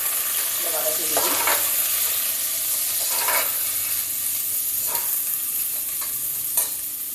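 Onions sauté in a hot pan for a mutton curry, a loud continuous sizzle and fry close up, with a spoon scraping and stirring in a few distinct strokes.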